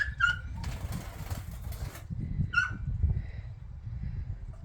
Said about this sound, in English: I have 2 sparrows stuck in my greenhouse